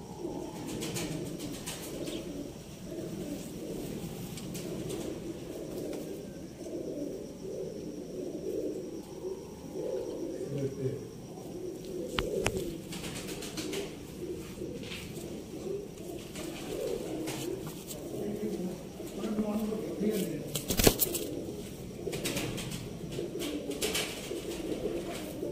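Soft, repeated cooing of large pigeons in Sialkot, Pakistan, at moderate distance, with occasional wing flaps and faint outdoor background.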